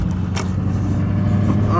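Duramax pickup truck towing a heavy tractor on its way to merge onto an interstate, with a steady loud low engine and road drone throughout and a voice talking over it.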